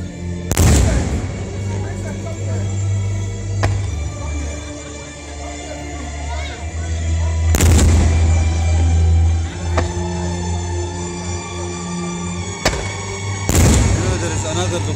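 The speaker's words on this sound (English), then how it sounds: "Their fireworks show." Fireworks explosions at a village display in Mellieha, Malta: three loud, sharp booms burst over a steady rumble of crowd and background noise, spaced several seconds apart.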